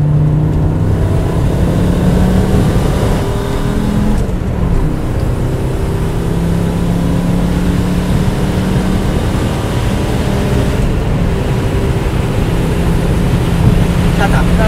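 Turbocharged Mercedes 190 accelerating hard in third gear, a steady loud engine drone with rising harmonics throughout, close and continuous, with wind and road noise mixed in.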